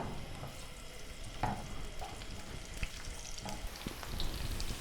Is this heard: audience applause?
no